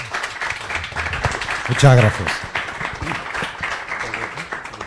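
Clapping from an audience at a poetry reading runs through the moment as scattered, moderate claps, while a voice briefly speaks over it.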